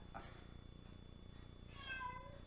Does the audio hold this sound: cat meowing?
yes